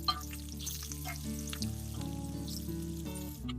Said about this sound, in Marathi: आता आपल्याला याच्यामध्ये टाकायचा आहे कांदा